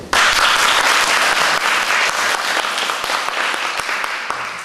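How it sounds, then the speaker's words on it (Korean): At a Korean youth talk event, an audience breaks into loud applause as a young guest is called to the stage, many hands clapping at once in a thick, close burst that starts abruptly and gradually thins out over several seconds. "박수."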